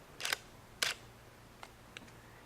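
Two crisp shutter clicks from a Nikea Semi-Pro camera held close, followed by two much fainter, shorter clicks at a different shutter speed, with quiet room hiss between them.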